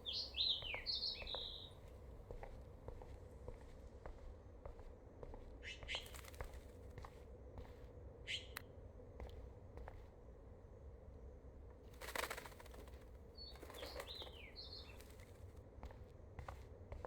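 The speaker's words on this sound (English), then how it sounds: "Oh no, that poor little bird has been trapped in here." A bird trapped indoors in Life is Strange chirps in short bright bursts and flaps its wings in brief rustling flurries, faint and intermittent over a quiet, low background hum.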